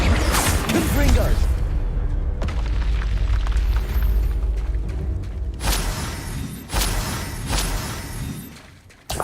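Confringo blasting spells explode in Hogwarts Legacy, giving loud booms and bursts with whooshing debris over a dense battle mix; a voice calls out spells between blasts.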